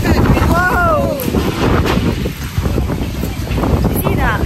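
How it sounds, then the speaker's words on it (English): Strong wind blows outdoors in Valencia, Spain, in January, a constant rushing roar buffeting the microphone, with voices underneath. "It's really windy."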